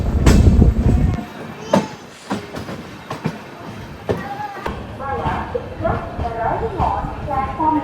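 Amrit Bharat Express pulling into Tirunelveli Junction, heard from on board: a heavy rumble gives way to irregular clanks and rail clatter, with a voice talking partway through.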